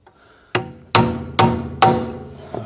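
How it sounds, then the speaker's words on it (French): A heavier hammer strikes a stuck part four times during brake work on a Mercedes W124. Each blow is sharp, loud and close, rings briefly, and comes at a steady interval of roughly half a second. "Marteau plus gros."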